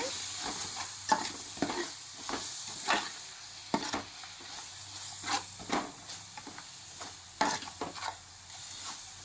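Biryani masala being stirred into egg biryani in a pan, a quiet background sizzle broken by repeated sharp scrapes and clinks of a spoon against the metal at an uneven pace.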